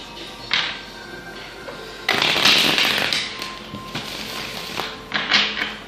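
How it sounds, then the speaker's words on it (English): Tarot cards shuffled by hand, a soft riffling and tapping that swells into a longer dense flurry in the middle, then scattered shorter bursts, close and fairly quiet. "I just like to give a shuffling for whenever I pick them up each time"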